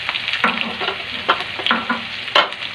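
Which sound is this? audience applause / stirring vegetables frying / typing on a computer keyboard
stirring vegetables frying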